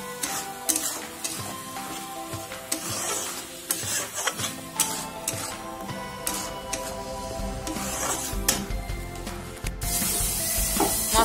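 Spice masala sautéing in oil for egg curry, a continuous close sizzle broken by repeated scraping strokes of a spoon against the pan, with no talk.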